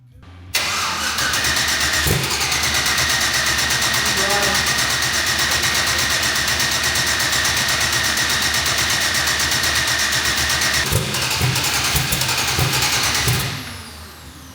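A turbocharged Ford Fairmont drag car engine cranks, catches and settles into a loud, steady running drone for several seconds before cutting out, with faint voices underneath.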